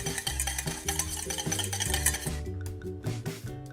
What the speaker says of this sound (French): On fouette.